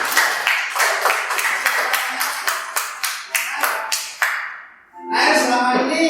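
A group of schoolchildren claps in a burst of quick, rhythmic hand claps at an Islamic student club event, loud and close, fading briefly before a fresh swell of clapping or cheering near the end.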